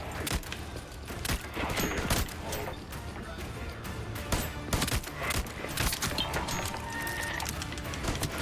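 Dense video game gunfire against Nazi enemies: continuous rapid shots and bursts crackling throughout, some louder cracks standing out, with the occasional voice in the mix.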